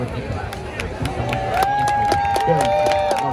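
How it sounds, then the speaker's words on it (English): High school marching band crowd at a pop-rock field show, cheering and clapping rising from a stadium audience, with whistles and an announcer's voice over the swelling applause. "Two rounds of applause drum major Ryan"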